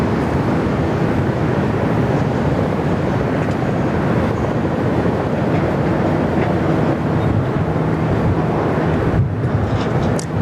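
Jet airliner departing runway 34 left at Sydney Airport, a steady broad roar that holds loud and continuous throughout without any voices.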